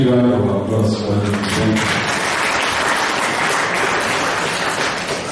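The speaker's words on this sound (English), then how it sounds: "Once again, the big round of applause for the" Audience applause fills a workshop hall, a dense, loud wash of clapping that holds steady throughout, with voices mixed into the crowd noise.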